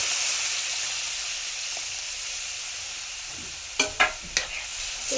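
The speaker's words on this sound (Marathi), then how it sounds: "आता कांदा लसूण मसाला टाकते" Onion, garlic and masala tipped into a hot dal tempering, with a steady close sizzle of frying throughout and a few sharp crackling spits and stirring knocks near the end.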